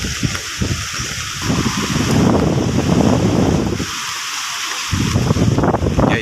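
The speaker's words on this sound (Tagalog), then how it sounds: "sa dagat, tinan nyo, napakalakas ng hangin." Strong typhoon wind roars by the sea in Samar, gusting over crashing waves with heavy buffeting on the microphone, easing briefly in a lull before surging again.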